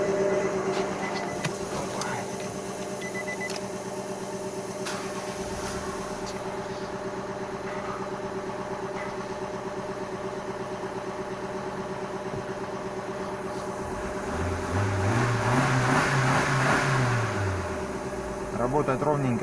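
Nissan March (Micra) BNK12 contract engine, a Japanese-market unit with 99,000 km of mileage, running at a steady even idle with a continuous hum, while someone talks over it near the end.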